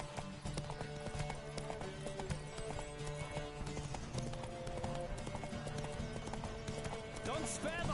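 Horse hooves galloping in The Witcher 3 video game, a steady rapid clip-clop under continuous game music and ambience, with a voice speaking over it.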